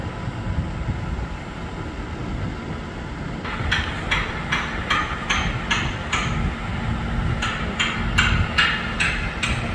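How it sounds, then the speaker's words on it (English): Workers bolt a new support column for the Fury 325 roller coaster into place. Repeated sharp metallic clanks, like wrench or hammer strikes, ring out at an irregular rhythm over steady outdoor rumble and machinery noise. "Looks like they're getting it bolted in place now."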